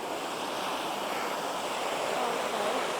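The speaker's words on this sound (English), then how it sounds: "Where the water rushes and everything." Water rushes steadily along a canal outdoors, a continuous broadband roar with no breaks, fairly close and even in loudness throughout.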